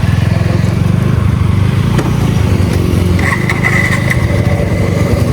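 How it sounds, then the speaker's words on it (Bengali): A Suzuki Gixxer motorcycle engine runs steadily close up, a loud continuous low rumble with even throttle and no pauses throughout. "তো বাইক স্টার্ট দিয়ে দিয়েছি"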